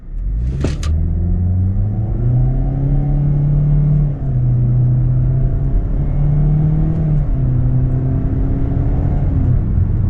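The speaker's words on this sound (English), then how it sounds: "now we're going to shift through the simulated gears of this IVT with the gear shift" A 2026 Kia Seltos S AWD with an IVT accelerates hard, its engine drone climbing steadily and stepping down at each simulated gear shift. The sound is loud and close, with no talking.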